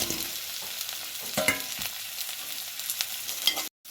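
Ginger garlic paste and banana flower sizzle in hot oil in a pan, a steady close frying hiss punctuated by stirring scrapes, with no voices.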